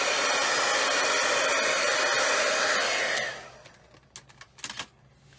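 A hair dryer blows steadily and loudly to dry stamping ink at a scrapbooking table, then cuts off after about three seconds, leaving a few light clicks and taps of handling nearby.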